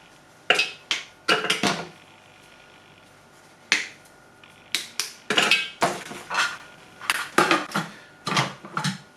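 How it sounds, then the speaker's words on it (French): Chocolate pieces drop into a Thermomix bowl, a scattered series of sharp, hard clicks and clatters in small bursts, close and distinct against a quiet background. "J'ajoute maintenant mon chocolat que je coupe en morceaux avant de mettre dans le bol."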